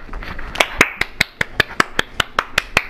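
Hand clapping during an NBA 2K19 MyCareer session: about a dozen sharp, close claps in a steady, brisk rhythm lasting nearly three seconds, loud and alone.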